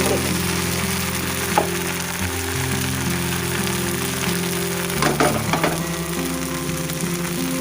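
Rava dosa batter is poured onto a hot pan and sizzles steadily with bright crackling, nearby and loud, with a few sharper spatters partway through and a low hum beneath.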